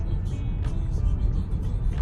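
Tesla electric car accelerating gently on Autopilot, heard from inside as a steady low road rumble and hum with faint whining texture, continuous and fairly loud throughout.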